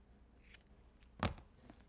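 Scissors snip through folded paper during a recycled water-bottle piggy bank craft, a faint short snip followed by a louder crisp cut, alone in a quiet room.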